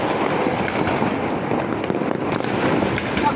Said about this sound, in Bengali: কিভাবে হাজার হাজার পটকাবাজি ফোটাচ্ছে মানুষ।